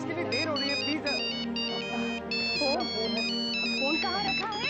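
A mobile phone ringtone plays a bright, repeating electronic melody at close range for several seconds, loud and steady, with a voice faintly present underneath.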